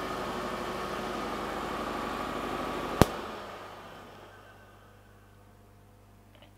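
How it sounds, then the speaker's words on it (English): An electric induction motor wired in star and switched directly on the line runs with a steady hum and vibration, then a sharp click at about three seconds cuts it off and the sound winds down to quiet. "So you see this motor is now, is connected in star and it's running."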